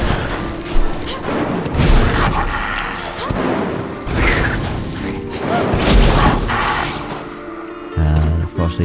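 Lightning spell explosions from the video game Mages of Mystralia burst repeatedly as loud booming thuds over a dense, continuous rumble of game effects, with a few heavier low hits near the end.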